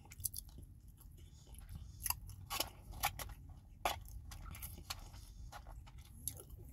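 Black beans and rice are chewed close to the microphone in an eating show, with soft, repeated wet crunches and bites in an irregular rhythm over a quiet background.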